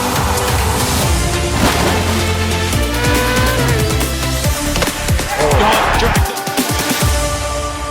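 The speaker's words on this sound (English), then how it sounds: "We are moving to the Formula 1 circuit now." Formula 1 race cars on a circuit, with loud, continuous engine roar and whining pitch sweeps as cars pass close by, plus some tire noise throughout.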